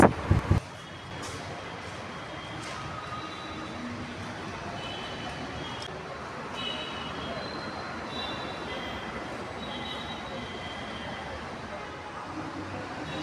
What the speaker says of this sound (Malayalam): നമ്മൾ ആദ്യമായിട്ടാണ് മെട്രോയിൽ പോകുന്നത്